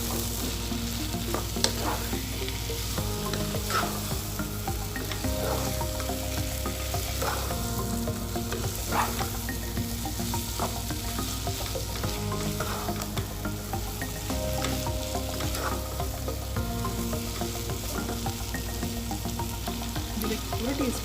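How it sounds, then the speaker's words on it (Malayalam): Chicken sausage is stir-fried in a pan, giving a continuous sizzle overlaid with a regular rhythm of spatula scrapes and stirring knocks that recur every couple of seconds, steady and close throughout. "Sausage, chicken sausage. നന്നായിട്ടൊന്ന് മിക്സ് ചെയ്യാം."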